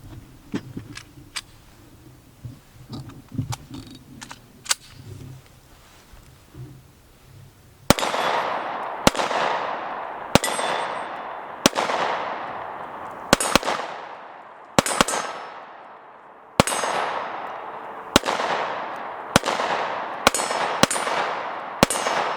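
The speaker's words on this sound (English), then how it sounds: "we're going to try to hit the gong a few more times and see how that goes" Springfield SD subcompact 9mm polymer handgun firing at a steel gong outdoors: after quiet handling noise, a string of loud, sharp shots ring out at irregular intervals, each followed by a bright metallic ring.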